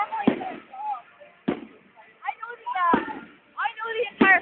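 Bonfire night fireworks in Baxter Park, Dundee, go off as four sharp, loud bangs spaced about a second apart, with people chatting close by between the blasts.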